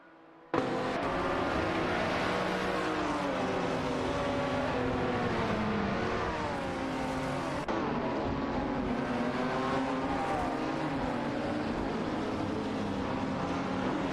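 A racing car in a racing video game accelerates away, its loud engine whine sustained and shifting pitch across the clip, with no talk over it.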